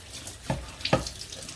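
Tap water runs to fill a pot for cooking a roast in a home kitchen, heard as a soft steady flow with two brief louder splashy bursts.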